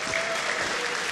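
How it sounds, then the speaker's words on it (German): A crowd at a FIFA esports event claps steadily throughout, a dense continuous patter of applause at moderate volume. "es gibt erstmal einen dicken Applaus für die beiden Spieler hier als Motivation"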